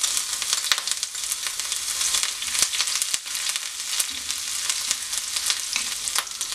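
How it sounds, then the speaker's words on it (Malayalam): Ginger hits hot oil with mustard seeds that have already popped, a tempering for curd rice, giving a steady, close, dense sizzle and crackle throughout with no talking. "അതിനകത്തേക്ക് ഇഞ്ചി ചേർത്ത് കൊടുക്കാം."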